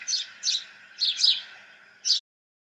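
Small birds chirping in the morning, four or five bright, quick bursts of tweets spaced about half a second apart, clear and close against a quiet background.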